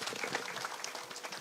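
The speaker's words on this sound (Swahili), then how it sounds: "pigeni hao wote makofi" A crowd at an outdoor public security forum in Kiambu County, Kenya, applauds in a steady, dense wash of clapping for the full moment, moderately loud with no pauses.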